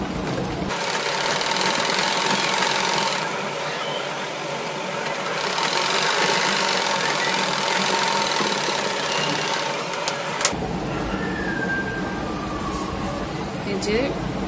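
A sewing machine stitches a hijab made from an orna, a steady, close mechanical whir running almost continuously with a brief change in tone near the end.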